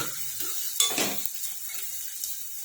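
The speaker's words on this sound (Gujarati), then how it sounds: "હવે ગાજર ને કેપ્સિકમ ઝીણું કટ કરેલું એડ કરી દઈશું અને એને બી સરસ શેકી લઈશું" Chopped carrot and capsicum stirred into onions in a hot pan, giving a soft steady sizzle with a brief louder scrape of stirring near the start and light clinks of utensil on metal.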